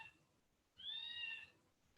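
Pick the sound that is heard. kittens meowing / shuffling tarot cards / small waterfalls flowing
kittens meowing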